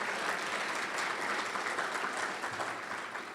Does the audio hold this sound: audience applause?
yes